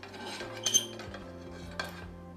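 Garlic stirring in olive oil in a pan, with a quiet metal utensil scraping and a few light clinks against the pan over a steady low background.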